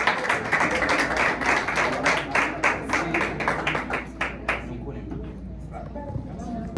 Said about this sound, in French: Je vous prie de l'applaudir, s'il vous plaît.